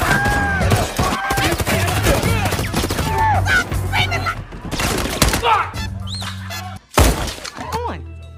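Chaotic bursts of gunfire as armed men shoot up a place in a film, rapid cracks and shattering impacts layered with crashing debris, then sparse shots with brief gaps, loud and dense.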